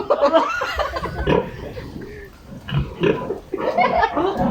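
A one-month-old pig gives low, irregular grunts up close, while people talk and chuckle nearby.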